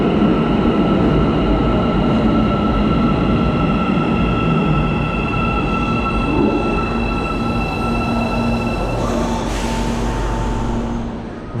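An Almaty Metro subway train, apparently Chinese-built, rumbles loudly and continuously from close by, with steady tonal whines and a brief rise in hiss near the end.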